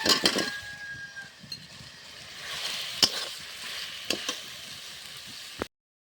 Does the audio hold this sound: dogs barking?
no